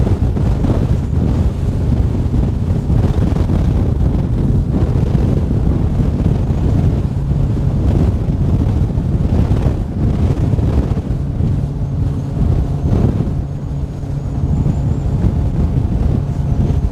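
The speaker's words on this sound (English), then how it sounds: "we're going straight through the wind right now" Steady wind buffeting the microphone while a boat runs across choppy water on Lake Guntersville, a loud continuous low roar and rumble with slight bumps and no talking.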